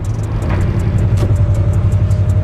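A manual car engine holds a steady low rumble while the driver goes up through the gears, with a faint clunk from a gear change partway through. The engine sound stays close and loud the whole time, with no talking.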